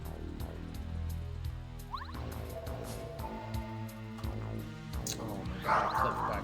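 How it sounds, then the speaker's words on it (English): Dogs barking and yipping somewhere in a room, fairly faint beneath dense game music and effects, with someone talking over them. "My dogs are going ludicrous right now."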